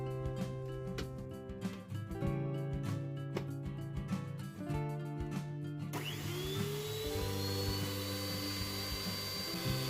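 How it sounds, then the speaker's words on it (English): Electric hand mixer fitted with beaters whips egg whites for keto bagel dough, a continuous loud whirring drone with a rising pitch shift midway, steady and close without pause. "I switched out the mixer tool for beaters. And now the egg whites are really gonna fluff up now."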